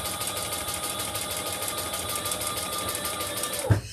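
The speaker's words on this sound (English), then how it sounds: "I'm going to sew this" A sewing machine runs steadily while stitching a fabric bag, a fast even mechanical whir with a rapid rhythmic needle patter that continues close and loud, then stops with a brief thump near the end.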